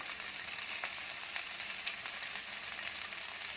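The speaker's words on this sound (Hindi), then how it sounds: "अब मैं इसमें 2 टेबलस्पून मटर के दाने डाल देंगे। इसको भी 1 मिनट भूनेंगे।" Potato samosa filling with green peas frying in a pan, giving a continuous soft, even sizzle with faint crackles and occasional light stirring; no voices.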